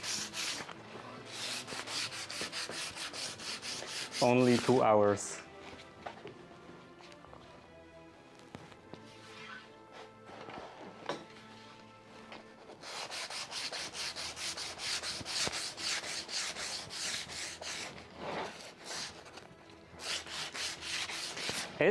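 Sanding in the Minecraft modpack MC Eternal 2, with repeated rasping rubbing strokes in steady bursts, some passes louder and quicker, a brief word spoken midway.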